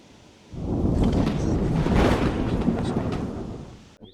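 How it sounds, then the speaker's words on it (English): Low thunder rumbles through a storm that brought a tornado, swelling in after a quiet start and holding as a broad, steady roll before cutting off abruptly near the end. "Just hearing a little bit of thunder now."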